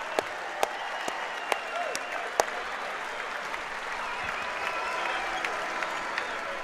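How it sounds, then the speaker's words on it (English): Basketball fans in a Portland, Maine arena stand and applaud after Montverde Academy's win over Gonzaga College High, a broad, even roar of clapping from a large crowd with scattered sharper claps on top. "The fans will stand and applaud once again,"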